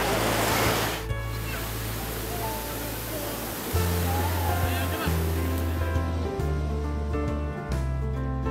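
Ocean waves wash continuously onto a beach at a Jimbaran, Bali resort, a loud steady surf roar with a low droning hum running underneath.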